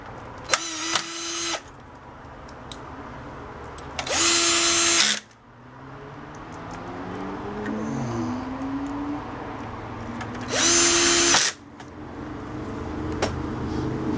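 A power drill turned down to low speed drives screws into a TV set under repair, whirring in three separate bursts of about a second each against a steady background hum.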